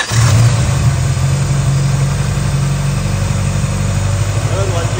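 A rebuilt Honda Civic SiR engine catches and settles into a loud, steady idle, a low continuous rumble close by with no talking.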